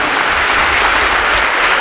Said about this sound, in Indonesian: tepuk tangan untuk TNI Polri ya